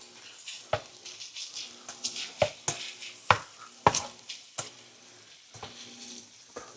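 Ground beef and melted cheese sizzle and crackle in a pan, with a steady frying hiss broken by repeated sharp scraping and stirring knocks from a utensil, fairly close.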